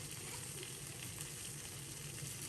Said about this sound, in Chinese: 用同样的方法和火候，把另一面煎至金黄